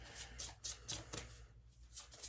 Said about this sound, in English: which is a lot harder to shuffle when there's only like 11 cards